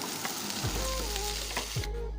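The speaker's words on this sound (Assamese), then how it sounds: "পিঁয়াজ আৰু কেপচিকামখিনি 2 মিনিটমান ফ্ৰাই হোৱাৰ পিছত" Steady sizzling of onion and capsicum frying in a pan, a close, continuous crackle with a low hum and a couple of soft thuds, no talking.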